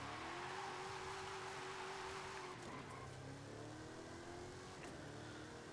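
A 1969 Pontiac GTO Judge muscle car in Forza Horizon 5 running hard down a drag strip, its engine droning steadily at high revs with shifting pitch and a faint tire squeal, alone and loud throughout.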